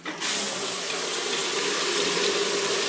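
A gold prospecting picker system in Arizona sprays water in a strong, steady gushing rush that starts abruptly and continues close by, with no talking.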